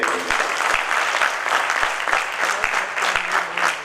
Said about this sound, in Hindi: पहले तो उनके लिए भरपूर तालियां बजाएंगे।